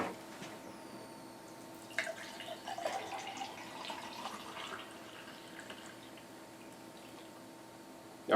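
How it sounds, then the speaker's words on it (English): Fresh juice from a Breville Juice Fountain Elite or Solostar 4 slow juicer is poured into a cup, a faint, steady trickle and gurgle at close range with a few louder splashes early on. "let's go ahead and get a cup out here and show you guys actually a comparison of the juices"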